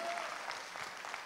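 Applause from a seminar audience at a motivational business talk, a dense burst of many hands clapping steadily and fairly loudly for about a second, with no voice over it.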